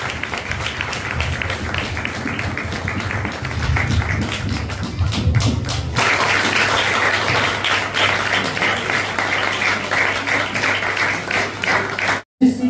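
A church congregation in Kalaburagi claps at a Christmas celebration, sustained dense applause with scattered sharp claps and low thumps, briefly cutting out near the end.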